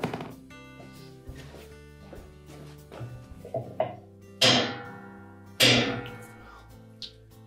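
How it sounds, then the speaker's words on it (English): A short-handled hammer taps the drive block tight on a Whirlpool washer tub during a repair. A series of dull knocks starts light and scattered, then two louder, sharper thuds land close by, followed by a faint final tap. "we'll use the hammer to tighten it completely"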